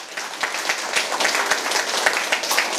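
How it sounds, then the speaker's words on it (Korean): An audience at a Korean spiritual teaching talk breaks into applause, many hands clapping in a dense, fairly loud and steady patter with little speech. "여러분 박수 안 칩니까 이거?"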